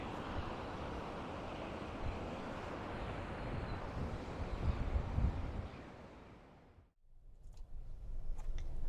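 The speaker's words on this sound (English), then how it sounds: "it's extremely windy" Strong wind buffets the open South Australian coastline, a loud continuous roaring rush with gusts that swell and then briefly drop away near the end.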